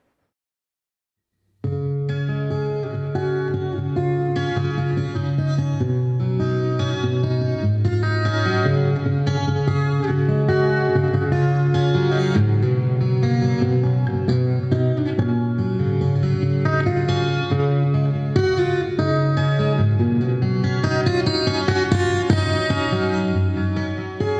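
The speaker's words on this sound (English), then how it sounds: "right now I'm on a plate reverb, and this sounds really nice when you finger pick it" Fingerpicked acoustic guitar through a Hartke AC150 acoustic amplifier with plate reverb, played continuously, notes ringing together in a wide, shimmering reverb wash; clear and close, with no speech.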